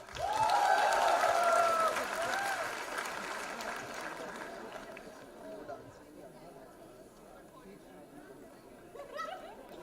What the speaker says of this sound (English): Give a round of applause for Zephyr